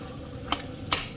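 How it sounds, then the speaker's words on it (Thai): Sliced eggplant and bamboo shoots are stirred in a cooking pot, giving two brief, sharp utensil knocks against the pot about half a second apart, close by over a low, steady background. "ใส่ลงไปในหม้อเลยค่ะ ทุกคน จากนั้นก็ทำการคนนะจ๊ะ คนให้เข้ากันค่ะทุกคน"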